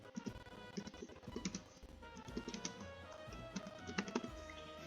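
Typing on a computer keyboard, with quick irregular clusters of close key clicks that pause briefly and then resume, set against a faint steady background hum.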